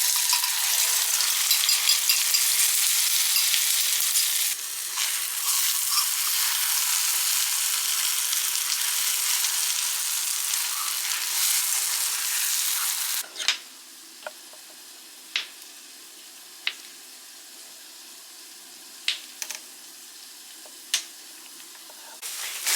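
Eggs frying in a pan give a loud, steady sizzle for about thirteen seconds, then the sound drops to a quieter hiss broken by several sharp utensil clicks and scrapes.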